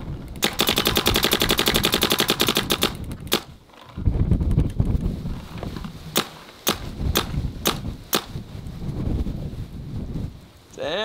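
A Planet Eclipse Geo 4 paintball marker fires close to the microphone, first in a long rapid burst and then in scattered single and double shots, with wind noise and brief speech between the volleys.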